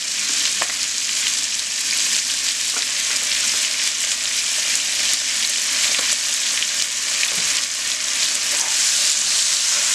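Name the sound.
ground cumin and coriander paste frying in a pan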